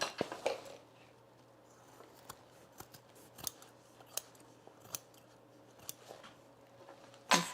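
Scissors snip through fabric for a travel bag with no stiffener, a run of sharp separate close cuts with short pauses between them, heaviest at the start and the end, in an otherwise quiet room.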